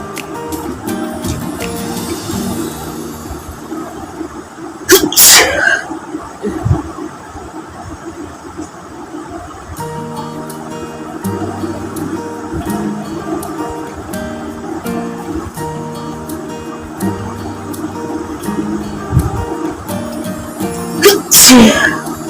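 Paper-induced sneezes during a sneezing challenge, with sharp loud bursts near the middle and again at the end, set against ongoing background noise and rumble.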